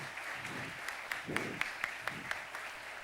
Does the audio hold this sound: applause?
yes